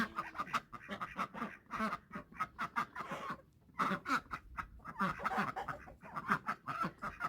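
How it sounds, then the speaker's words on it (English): Ducks quack and chickens cluck together in a busy evening barnyard chorus, birds waiting for grain, a turkey among them, many calling close by in overlapping bursts. "And all my chickens are waiting for some grain. The ducks, the turkey."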